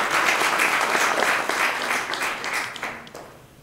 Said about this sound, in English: Round of applause for Carlos.